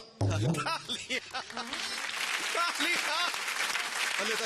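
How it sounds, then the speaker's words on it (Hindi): Applause and cheering from a comedy show audience build quickly after a brief moment, continuing as a dense, steady roar with a voice briefly audible at the start. "तालियां"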